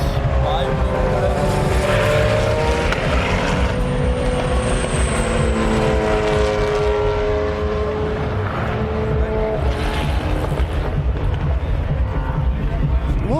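A race car engine roars past at high speed, its pitch sweeping steadily, loud and continuous with a broad rumbling background throughout.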